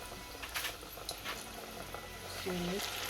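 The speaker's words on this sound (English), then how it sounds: "So I'm gonna put about 1 wing in there first, just to see how hot the oil is" A single chicken wing dropped into hot frying oil, bubbling and boiling up close, with a tone-like hiss swelling near the end and someone talking over parts of it.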